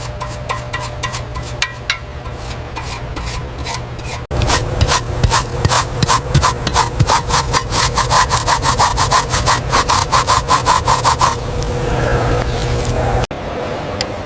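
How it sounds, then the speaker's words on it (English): Close, steady scraping and rubbing strokes as rust is worked off the mounts of an Audi R8 V10 during a restoration, loud and repetitive with short pauses between bursts. "Slowly but surely, the rust is coming right off these mounts."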